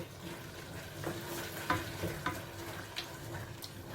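Smoked chicken in palm nut grain sauce is stirred in a pot, giving soft bubbling and a low simmer with a few distinct spoon knocks and scrapes. The sounds are close but fairly quiet, and no one speaks.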